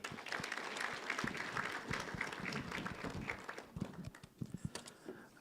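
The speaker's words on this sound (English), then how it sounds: "Another round of applause." Round of applause from a conference audience at an anti-money-laundering indaba in Eswatini, a dense wash of many hands clapping that thins into scattered, distinct claps toward the end.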